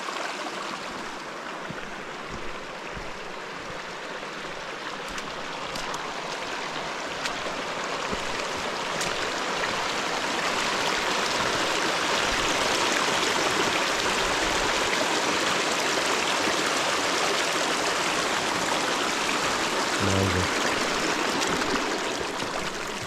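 A mountain creek that doubles as a trail, its water rushing and babbling up close as someone wades along it, a dense continuous flow that swells slightly louder partway through, with no talk.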